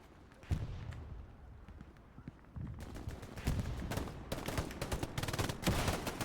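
Rapid handheld machine gun fire rattles through a Hell Let Loose match at Stalingrad, starting with scattered shots and building into dense, sustained bursts of gunfire, with several weapons firing close by.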